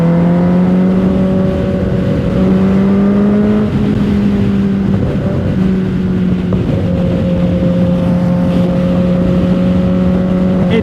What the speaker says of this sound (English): hopefully like the exhaust isn't so loud that you can't hear anything else